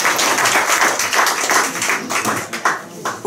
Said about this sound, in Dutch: Dus een hartelijk applaus voor Hans Omen.